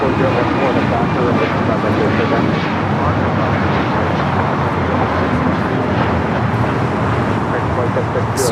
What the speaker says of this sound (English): 1635 taking off to Washington Dulles on the MAX 9